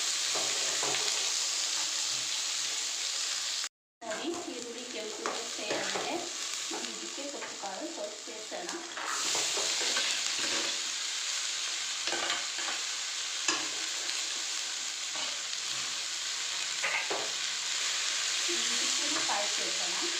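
Green chillies and chopped onion fry in a hot pan while being stirred, a steady close sizzle running throughout with frequent scraping stir strokes and a brief dropout near the start.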